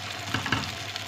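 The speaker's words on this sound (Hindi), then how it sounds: "ऑयल अच्छे से गरम हो चुका है व्यूअर्स। अब मैं इसके अंदर ये शामी कबाब" Beef shami kebabs in hot oil give a brief burst of close, crackling sizzle with small bubbling pops, no voices.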